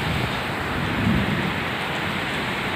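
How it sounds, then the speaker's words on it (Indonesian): Steady heavy rain falls at a train terminal in Penang, a dense, even hiss of downpour that is close and fairly loud, with no voices. "Ini suasana hujan ketika sedang menunggu train."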